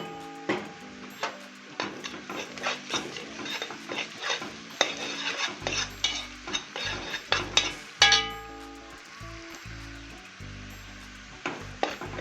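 Garlic is tipped into frying onions and stirred around a pan for lentils, with busy clattering spoon scrapes and taps over a constant sizzle that swells near the middle, close by with no talking.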